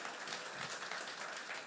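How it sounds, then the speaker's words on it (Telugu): Audience in a full hall clapping together, a dense, steady wash of applause at moderate level with no break across the moment. "ఒక్కసారి మాకు మీరే క్లాప్స్ ఇచ్చుకోండి గట్టిగా."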